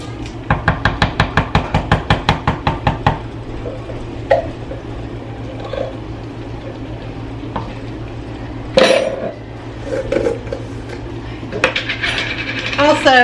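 Marshmallow cream is stirred into a candy mixture in a pot. A spoon scrapes and knocks against the pot in quick rhythmic strokes at first, then slower scattered clinks and scrapes follow, close and fairly loud.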